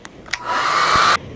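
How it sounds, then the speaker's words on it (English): A hair dryer blows steadily for about a second to dry droplets of watercolor paint, with a couple of brief clicks before it starts and an abrupt stop; close and fairly loud. "I'm gonna use my hair dryer and dry those."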